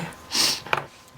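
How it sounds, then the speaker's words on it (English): A single short nasal sniff, close and fairly quiet, from a person pausing during an adult colouring tutorial, followed by a faint tap. "Oh, excuse me sniffing."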